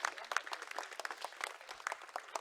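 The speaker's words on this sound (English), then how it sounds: "Can we have a huge round of applause for her?" Debate audience at the Valley of Words festival in Dehradun applauds a winner, scattered hand claps forming a quick, fairly faint round of applause lasting a couple of seconds.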